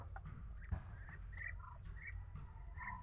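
Soft bird calls and faint cooing squawks from racing pigeons nearby, with low rumbling background noise and a brief thump.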